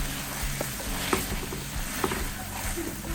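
Sun-dried tomato sauce with kosher salt and cut basil sizzles in a hot pan while being stirred, a constant close frying hiss with a few soft scraping knocks.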